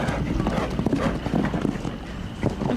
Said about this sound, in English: big strong horse with a big strong rider on his back right now.